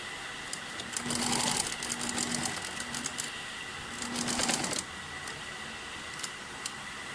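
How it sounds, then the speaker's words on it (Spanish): An industrial sewing machine stitches a seam on a jean-style sleeve bias binding in two fast whirring bursts separated by a short pause, close and fairly loud, with quiet handling noise afterward. "voy a pasarle la costura sujetándolo al otro extremo del sesgo"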